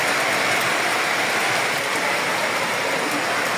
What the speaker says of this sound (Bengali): আবার বৃষ্টি বাতাস বেড়ে গেছে